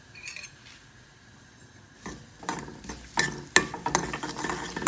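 Garlic frying in ghee in a pan, with quiet stirring scrapes early, then louder sizzling and clattering stirring bursts building toward the end, no talking.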